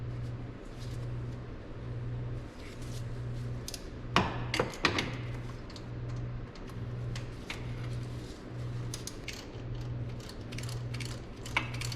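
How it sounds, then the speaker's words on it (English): A ratcheting wrench works under the hood of a WS6 Trans Am, giving faint rapid clicking in short bursts and a few sharper metallic knocks partway through, over a low steady repeating hum. "Not sure who invented the ratcheting wrench,"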